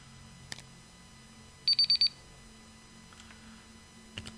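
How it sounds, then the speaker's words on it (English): A timer alarm on a table beeps in a quick burst of four bright electronic tones, fairly close and clear against a quiet room with a few faint clicks around it. "Timer's just gone off on the table."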